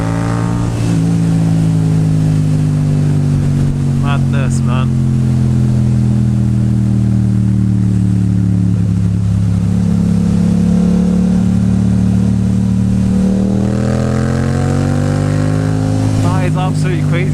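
A car's engine revs hard under acceleration, loud and close, its pitch sweeping up and dropping across gear changes; someone speaks briefly over the roar.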